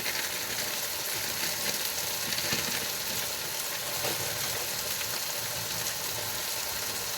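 Spices sizzle steadily in hot oil for Kerala-style chicken curry, a dense, continuous frying hiss with faint scrapes of stirring, close and even throughout with no voices.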